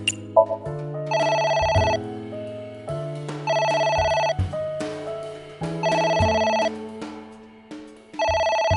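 A telephone bell rings insistently in repeated bright bursts, each lasting about a second, alternating with low sustained musical tones and no talking.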